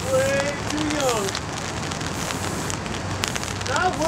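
Rain starting to fall outdoors during a graffiti painting session, a steady soft patter on surfaces with a faint background hum and occasional distant tonal sounds, no talking.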